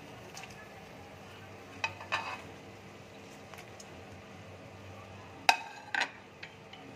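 Egg pakoras dropped into a simmering soybean curry with added water, with faint bubbling in the background and a few sharp clinks and soft splashes near the end.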